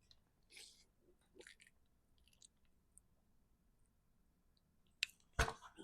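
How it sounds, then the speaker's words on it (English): Someone takes a drink of water close to the microphone: faint wet mouth sounds and small swallows scattered through quiet, ending in a louder sharp gulp or clack near the end. "Let me get another drink of water."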